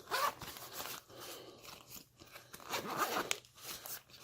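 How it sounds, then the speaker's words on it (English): Zipper on a pink Nintendo DS carrying bag being pulled open in a few close, scratchy bursts, with small crinkling handling noises between the pulls. "There's a zipper."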